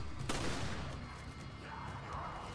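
Gunfire rings out in Resident Evil 5, with one sharp shot standing out early among continuous rumbling game noise, fairly loud and with no voices over it.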